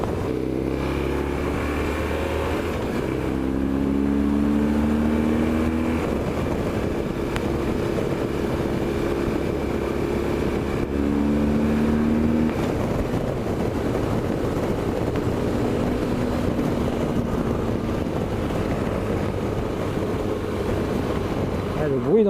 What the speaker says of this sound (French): Le bruit dans le casque avec le vent